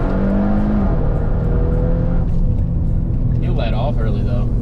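A tuned car with a piggyback tune and stock downpipes accelerates hard during a timed pull, a loud engine roar rising in pitch then dropping as gears change, with voices talking over it.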